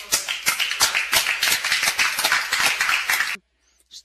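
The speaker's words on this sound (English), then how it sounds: "And now we're clapping for you guys." Film festival audience bursting into loud, dense clapping, many hands striking together steadily for over three seconds before stopping abruptly into near silence.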